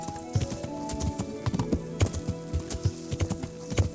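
Horse hooves clip-clop at a steady trotting rhythm in the medieval game Kingdom Come: Deliverance, close and clear over a soft ambient bed.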